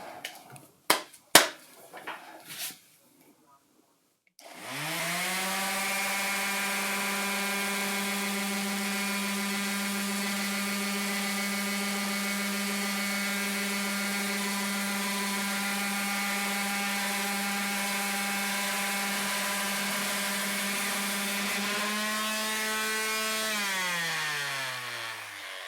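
Power sander working on a wooden icon panel: a few knocks at first, then a steady, loud, high whine that runs continuously for about twenty seconds before spinning down at the end.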